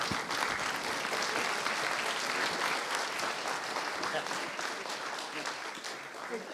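A seated audience gives a speaker a sustained standing ovation after a startup funding talk, dense steady applause filling the room at even loudness, easing slightly toward the end.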